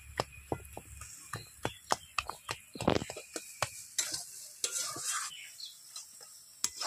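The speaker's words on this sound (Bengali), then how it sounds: "আর এইভাবে খুন্তি দিয়ে এরকম করে আলুটা পুরো মিশিয়ে নিতে হবে।" A spatula works boiled potato and spices together in a pan for an aloo paratha filling, with a string of distinct close taps and scrapes against the metal and a faint sizzle underneath.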